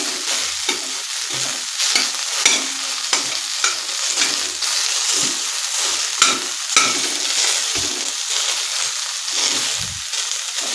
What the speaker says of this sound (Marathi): मिडियम गॅसवरती कांदा भाजून घ्यायचा आहे